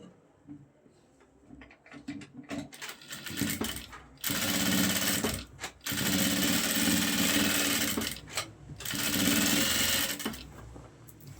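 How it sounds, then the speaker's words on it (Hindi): A sewing machine stitches along the edge of lace on a shalwar, running in loud, close, sustained whirring bursts with short pauses between them. "अब इसके किनारे पे सिलाई लगानी है।"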